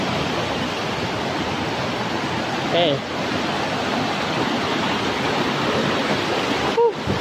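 Sulfur water pouring from the Pancuran 7 spout at Baturraden in Central Java makes a dense, continuous rushing roar, close and loud, with someone briefly speaking over it.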